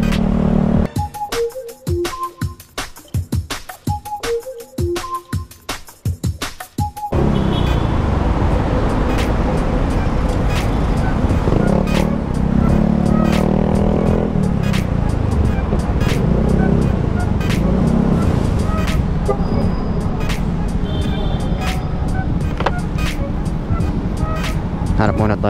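A Honda Beat FI V2 scooter fitted with an APIDO exhaust pipe rides through traffic, its engine droning continuously up close under road and traffic noise. A short stretch of music plays at the start.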